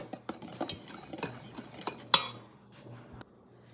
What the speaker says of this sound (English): I'll just mesh it into this flour mixture